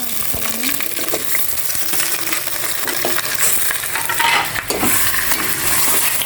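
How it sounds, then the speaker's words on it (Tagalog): Onions sautéing in a hot pan give a steady, close sizzle, with occasional scrapes and clinks of a utensil stirring against the metal. "Igisa ko muna itong maigi"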